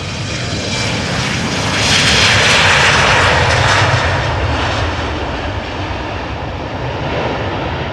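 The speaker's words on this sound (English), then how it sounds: "You're watching departures over here at Schiphol Airport." A fixed-wing airliner departs from a runway at Amsterdam Schiphol Airport under overcast skies, its engines producing a loud, steady roar that swells and peaks near the middle before easing slightly while staying continuous to the end.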